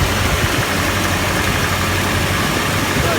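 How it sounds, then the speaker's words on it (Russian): A cold GAZelle 405 engine runs with knocking and noisy clatter, a dense steady mechanical rumble at close range, loud and continuous with no talk. "мы хотим выяснить причину, почему двигатель на холодный вот так стучит, шумит и издает какие-то непонятные звуки"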